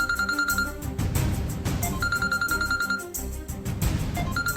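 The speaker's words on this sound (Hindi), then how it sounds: "फोन उठा के दे तो।" A telephone rings in a home setting with a repeated electronic ringtone pattern, bursts of tones separated by short gaps, loud and close amid background music.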